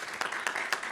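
A short burst of applause from a crowd at a conference session, several hands clapping at once in a steady patter.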